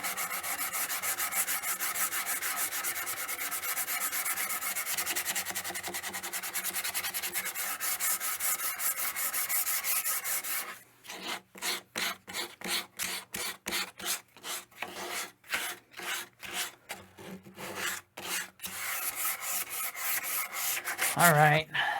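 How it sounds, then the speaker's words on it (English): A wooden guitar neck is hand sanded close up, first in a long continuous rub, then in quick rhythmic back-and-forth strokes of scratchy rasping, with no talking. "The other thing I can always do is grab this the way I'm going to hold it and sand it like that."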